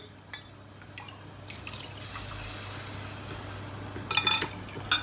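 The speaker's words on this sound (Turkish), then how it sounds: "Unu kattıktan sonra hemen içine 3 su bardağı bir soğuk su ilave ediyoruz." Cold water pours into a soup pot of minced-meat soup with flour stirred in, a steady soft splashing stream that ends in a few louder drips and clinks.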